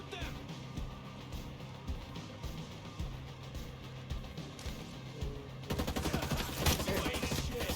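Gunfire aimed at snipers in Ghost Recon Breakpoint comes through faint and distant as scattered shots under a steady rumble. It then turns into denser, rapid automatic bursts that continue steadily through the final seconds.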